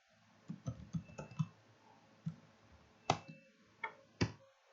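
Code being typed on a computer keyboard for a Java NetBeans program, irregular clacking keystrokes in small bursts with a few sharper, louder key hits, close and fairly quiet in a still room.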